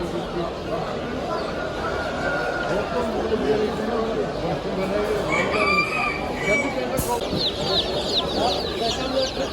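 A rooster crows amid clucking fowl at a poultry and exotic animal market in a busy, noisy setting while people talk nearby.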